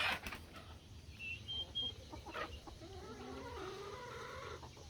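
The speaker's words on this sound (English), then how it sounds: "I guess the whole time you've been able to hear them little turkeys in the background" Young turkeys calling from a backyard homestead with chickens and rabbits: faint, scattered high chirps and peeps in the background, set against a low, steady ambient rumble.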